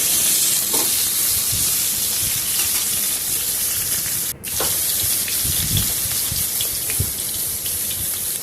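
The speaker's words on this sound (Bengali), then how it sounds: "এবার আমি ভালো করে ফোড়নের সাথে সবজিগুলোকে ভালো করে মিশিয়ে দিলাম।" Vegetables being stirred through tempering spices in a hot pan for an Ekadashi khichuri without dal, giving a steady close sizzle with scraping stir sounds throughout.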